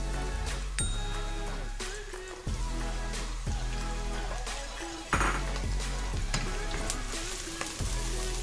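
Onions sizzle in half a cup of hot oil in a cooking pot, giving a steady close crackle broken by periodic clanks and scrapes of a spoon stirring, with no talking.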